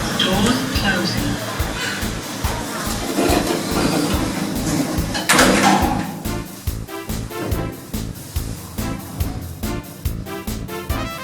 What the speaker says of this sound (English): Doors opening. Doors closing.